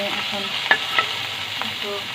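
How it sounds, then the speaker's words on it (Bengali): Mashed shrimp sizzling in a pan of oil, a steady frying hiss with a couple of sharp spatters and light stirring scrapes, close and continuous with no talk. "এরপরে আমি আবার চিংড়ি মাছ ভাজবো।"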